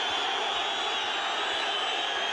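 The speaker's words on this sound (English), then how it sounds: "that's the way this crowd is treating it. And right now, they're cheering his hit songs" A boxing crowd at the 1994 Johnny Tapia vs Henry Martinez fight roars in a steady, dense wash of cheering that holds at an even level throughout, with no single voice standing out.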